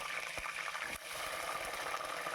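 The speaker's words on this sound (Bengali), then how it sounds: "ভালো করে তেলটা দিয়ে ভালো করে পটলগুলোকে ভেজে নেব সব পটলগুলো আমি একবারে দিয়ে দিচ্ছি" Pointed gourds frying in mustard oil in a pan, a continuous close sizzle and hiss with a few soft knocks, steady and moderately loud, with no talking.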